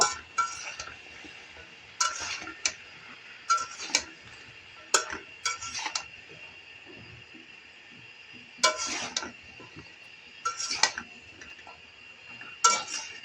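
Utensils clink against a covered pot of bean and potato mixture being cooked and stirred, giving sparse metallic taps and scrapes in separate bursts over a low steady kitchen background.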